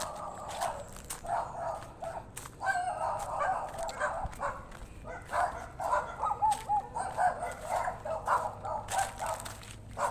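Dogs bark repeatedly along a forest trail, a mix of yips and whimpering barks at moderate distance, coming in irregular bursts over quiet outdoor background.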